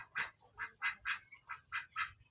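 Ducks on a farm that also keeps turkeys, giving seven quiet, evenly spaced quacks in a steady rhythm, fairly faint and with no talk.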